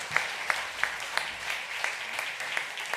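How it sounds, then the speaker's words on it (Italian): Award winners at a literary prize ceremony receive applause, a soft, steady patter of clapping with sharp, evenly spaced louder claps cutting through, heard from some distance. "applausone!"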